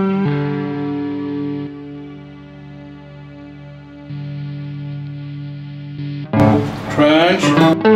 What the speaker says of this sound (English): if you want to choose the distortion, you have a great choice of sound from, for example, treble boost.